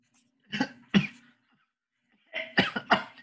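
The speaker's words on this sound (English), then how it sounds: "it's a fake cough" Two short fake coughs, a pause, then a tighter burst of two or three more, close to the mic with no talking.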